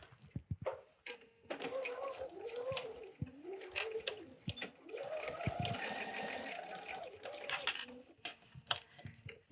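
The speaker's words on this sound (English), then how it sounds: "I'm going to sew a healthy 1/4 inch." A sewing machine stitches quilt binding on a table topper in short and longer bursts of rapid whirring, close up, with clicks between runs and a voice talking over it.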